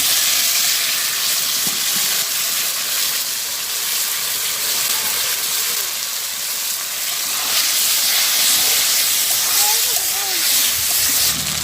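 Food sizzles steadily in hot oil in a village kitchen, a loud continuous crackling hiss that runs throughout, with a voice talking faintly now and then.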